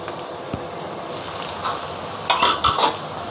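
A lid goes onto a cooking pot of sautéed greens with bombay chilies: a soft steady hiss, then a short burst of metallic clatter and clinks near the end.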